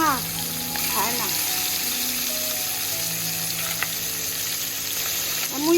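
Poa fish frying in a pan in a village kitchen, a steady loud hissing sizzle that runs throughout, with occasional small clinks and a few spoken words over it.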